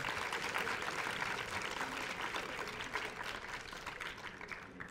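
Audience applause for student performers at the opening ceremony of the 2020 Taiwan International Science Fair, a steady, dense wash of clapping lasting throughout at moderate, somewhat distant level.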